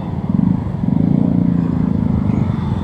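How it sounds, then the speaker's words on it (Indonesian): A bus engine idles and rumbles loudly right beside a city street, a steady low throbbing drone that swells slightly and holds without pause. "ini di samping bis jadi nggak kedengeran nanti. Lumayan suara mesinnya"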